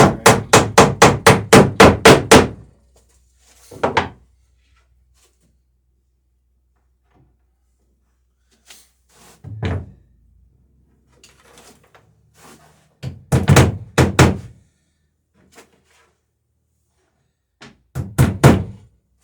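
Hammer blows drive rivets on a boat, starting with a quick run of about a dozen sharp close strikes, then scattered single knocks and short bursts of hammering separated by quiet gaps.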